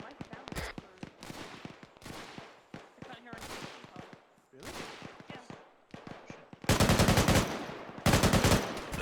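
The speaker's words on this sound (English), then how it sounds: "Definitely an LMG, yep." A light machine gun fires in bursts in a military video game: sharp, loud rattling volleys that grow denser and heavier toward the end, with voices faintly underneath.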